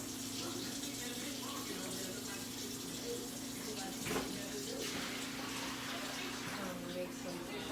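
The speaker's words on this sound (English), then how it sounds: "Make some dishwater." A kitchen tap runs steadily into a sink to make dishwater, a constant rushing splash under a low background hum.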